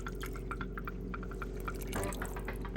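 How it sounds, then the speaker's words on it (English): Reserved pot liquor, the strained cooking water from greens, pours into a pot of gumbo z'herbes with a steady close splashing trickle lasting a few seconds. "to this, I'm going to add 2 quarts of our reserved pot liquor"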